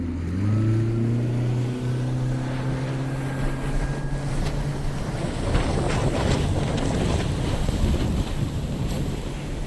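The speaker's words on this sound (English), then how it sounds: "We're in 130 to 150 mile an hour winds" Hurricane winds of 130 to 150 miles an hour roar steadily around a pontoon boat moving along flooded streets, a constant loud buffeting rush with a low engine drone fading early on.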